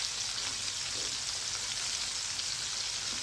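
Mullet fish frying in hot oil makes a loud, dense, continuous sizzle, close up and steady throughout with no talking.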